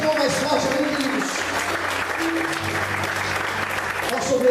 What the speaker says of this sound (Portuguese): Quantos podem aplaudir e exaltar a Deus por isso? Aplaude o Senhor mais forte